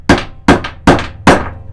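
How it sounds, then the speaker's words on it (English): Four sharp hammer taps at a steady rhythm, close and loud, each with a short metallic ring, as a handle scale is tapped down onto a full tang knife during an epoxy glue-up. "I don't want to get that all over my hammer, so I'm going to remove one layer so I can tap this"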